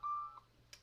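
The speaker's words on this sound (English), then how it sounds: "Oh, that's my alarm." An alarm gives one short, thin electronic beep, faint and clean against quiet room noise, followed by a small click.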